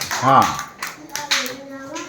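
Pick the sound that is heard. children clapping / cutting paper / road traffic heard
children clapping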